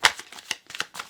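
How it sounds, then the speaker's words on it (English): A deck of tarot cards being shuffled up close, a quick run of crisp papery riffling bursts with brief pauses between them. "Let me shuffle on camera."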